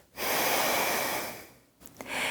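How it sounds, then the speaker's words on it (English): Steady nasal exhalation through the left nostril during alternate-nostril yoga breathing, a long airy breath out lasting over a second, then a brief pause and the start of another soft breath, close and quiet with no talking. "You're going to breathe out left."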